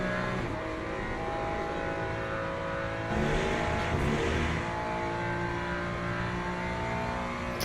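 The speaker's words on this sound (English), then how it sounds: "This car actually sounds pretty good on LMU." Race car engine in the Le Mans Ultimate sim racing game, a steady loud drone with a rev swell around the middle, continuous throughout with no talk.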